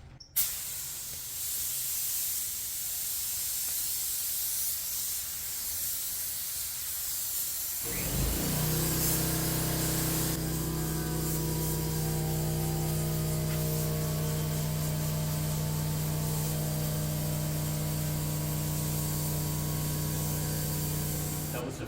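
A spray gun hisses out pearl coat paint onto a Tesla Model 3 quarter panel and bumper during a three-stage pearl white mobile repair, a steady close hiss in long passes with a strong burst of spray partway through.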